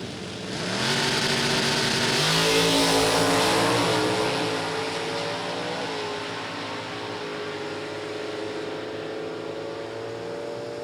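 At a drag strip, an 84 Buick Regal with a 265 cubic inch engine and a Chevy Camaro race. Loud engines roar and rise together, fade slightly, then settle into a sustained droning pull as the cars run down the track.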